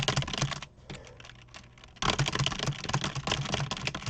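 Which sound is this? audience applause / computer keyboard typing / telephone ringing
computer keyboard typing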